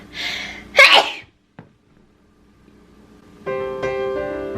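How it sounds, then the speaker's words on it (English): A single close, sharp sneeze from a person making a no-bake graham cracker crust in a home kitchen, a quick breathy intake then an explosive burst, followed by near silence and a faint ringing tone. "I need to sneeze."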